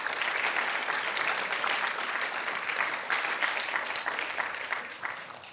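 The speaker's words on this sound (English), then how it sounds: "So let's give them a big round of applause too." Audience at a county speech festival awards ceremony applauding, a dense steady clapping from a crowd that holds throughout and tapers slightly at the end.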